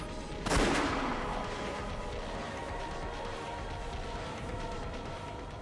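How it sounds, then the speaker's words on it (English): A single sharp gunshot from the video game Umineko, a loud crack with a trailing echo, followed by a low, steady background ambience. "No, that was Kinzo shooting him."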